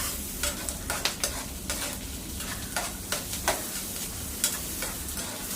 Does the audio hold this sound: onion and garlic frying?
yes